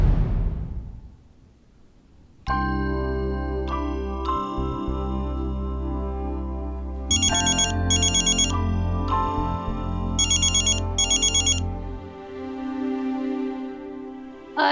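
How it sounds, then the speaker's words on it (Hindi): Mobile phone ringtone ringing loudly in a room, a repeating electronic melody with bright chiming bursts that runs for several seconds before stopping. "तुम्हारा फोन बज रहा है"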